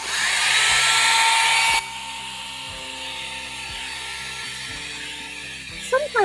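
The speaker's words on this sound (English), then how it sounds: "I'm gonna zap it with a dryer first." A hair dryer blasts loud, steady, high-pitched air over wet acrylic paint on a canvas, running about two seconds before switching off and leaving quiet background noise with a few small clicks near the end.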